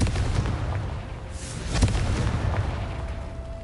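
A Confringo blasting spell detonates in Hogwarts Legacy, a deep booming explosion rumbling through the game's ambient score and ringing out near the middle, with no talk.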